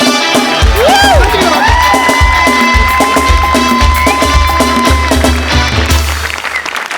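A live comedy stage audience in a Marathi show claps and cheers loudly, bursts of applause and whoops over stage music with sliding tones, steady and energetic before fading slightly at the end.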